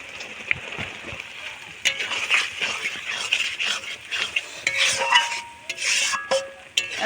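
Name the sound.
onion and spices (turmeric, chilli powder, salt) being sautéed and stirred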